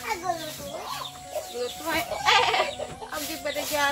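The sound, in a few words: chickens clucking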